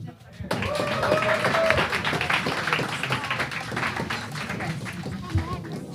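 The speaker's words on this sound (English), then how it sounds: "All right. An applause." Audience applause at a Black Women Alliance event against violence, loud and dense clapping from a crowd starting abruptly and continuing steadily, with some voices in the mix.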